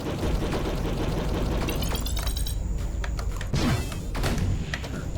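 Turrets fire in the VR game Sublevel Zero as a dense burst of rapid shots and shattering impacts, loud and close, with a few sharper hits near the end.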